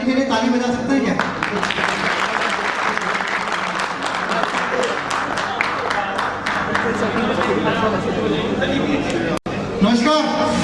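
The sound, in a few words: audience applause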